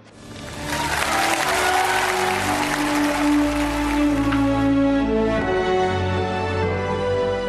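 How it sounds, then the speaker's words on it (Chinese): A studio audience applauds to welcome the mother-in-law onto a television talk show, loud sustained clapping that swells in and holds steady, with music playing underneath. "来我们掌声有请赵国静"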